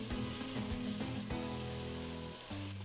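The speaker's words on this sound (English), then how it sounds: "Now stir in the diced onion." Diced onion is stirred into cooked chorizo in a pan, giving a steady, close, loud sizzle with soft scraping stirs throughout.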